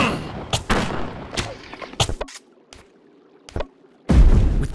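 Units in the strategy game Battle Realms fire weapons, scattered sharp shots and pops spaced irregularly over quiet gaps, ending in a louder heavy burst of combined fire.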